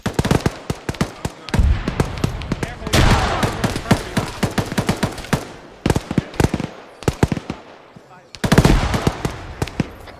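Arma 3 gunfire in sustained automatic bursts: rapid, loud, close cracks in long strings with brief pauses between volleys, and a voice speaking over part of it.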